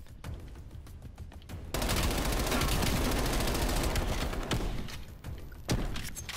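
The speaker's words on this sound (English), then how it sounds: "There's someone shooting at me." Rapid gunfire in a shooter video game, with scattered shots before a loud sustained burst of automatic fire, then further close bangs near the end.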